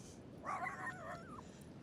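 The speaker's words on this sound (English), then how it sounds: "we got a little dog coming and he's barking at me" Small dog on a beach giving a short burst of yippy, whining barks in the middle distance, fairly faint over steady background noise.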